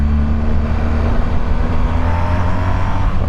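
A loud, steady exhaust drone rumbles throughout, low and continuous, from a BMW R1250GS motorcycle with a Jekyll & Hyde exhaust in loud mode cruising at a constant speed.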